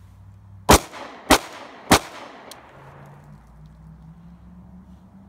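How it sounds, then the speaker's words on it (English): Three sharp, loud pistol shots from a Glock fired at an outdoor shooting range, spaced about half a second apart, followed by quiet ambience and a low hum. "I'm just gonna put a bunch of rounds down range"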